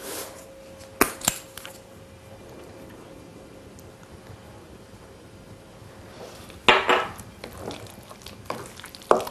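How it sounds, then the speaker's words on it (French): A spoon works through spinach tart filling seasoned with salt and pepper in a dish, giving soft scrapes and a few sharp clinks against the sides, with quiet stretches between bursts of stirring. "vous mélangez bien le tout."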